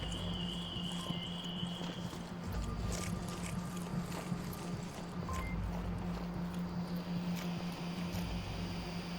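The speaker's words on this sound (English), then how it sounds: "Overpass footsteps." Footsteps cross an overpass in the VR shooter Onward during a competitive match, a steady run of faint, quick game-audio steps under a constant low hum with no talking.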